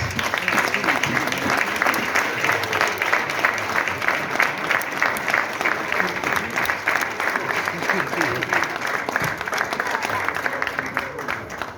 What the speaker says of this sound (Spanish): Un aplauso para todos eles.